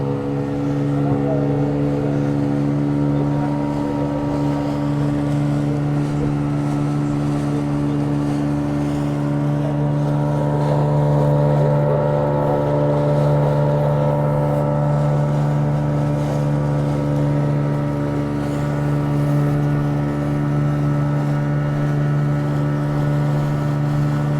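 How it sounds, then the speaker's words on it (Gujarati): A boat engine drones steadily and loudly throughout, a constant low rumble with a hum of wind and water beneath it. "હવે બોટ કરવા તૈયાર થઈ ગઈ છે"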